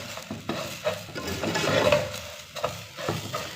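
Vermicelli frying with dry fruits in a pan over a low flame, giving a soft, steady sizzle broken up by scraping and stirring sounds, close by and with no one speaking.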